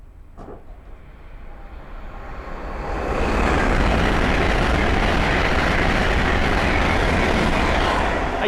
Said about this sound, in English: the next train to pass by is a Hull train 800 going from Glasgow Central to London King's Cross